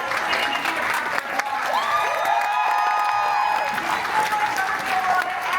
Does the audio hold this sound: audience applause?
yes